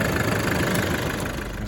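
A car fitted with a good second-hand engine runs steadily at idle, a continuous close mechanical hum with a slight knocking texture and no talk over it.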